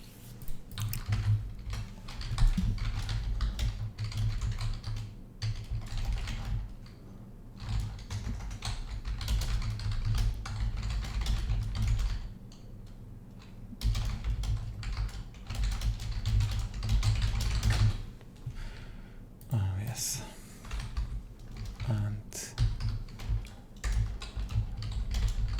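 Steady computer keyboard typing runs almost continuously, close and clear, with a rapid irregular rhythm of key clicks in a quiet room and no talking.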